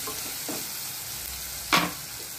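Softened tomatoes and aromatics for a spicy okra dish fry quietly in a pan, a low steady sizzle broken by a couple of stirring clicks and one louder scrape near the end.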